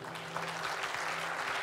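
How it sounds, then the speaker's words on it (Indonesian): Brief applause from a worship night audience, a short burst of scattered clapping heard fairly close amid the room's ambience. "Kasih tepuk tangan dong."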